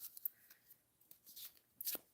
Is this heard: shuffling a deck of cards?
yes